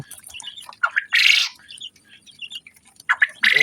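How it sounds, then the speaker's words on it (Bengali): King jumbo hybrid quail call in a series of sharp, high chirps and squawks with short gaps between them. A few calls come through loud and close, while fainter calls fill the background. "এগুলো আপনারা যে কয়েল পাখিগুলো দেখতে পাচ্ছেন"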